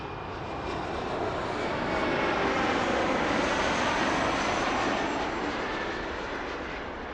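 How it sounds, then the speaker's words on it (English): A brand-new Airbus A220 passenger jet at Toronto Pearson airport, a loud broad engine roar that swells and holds steady as the plane powers by, with no voices. "A brand new A220. Literally a brand new plane."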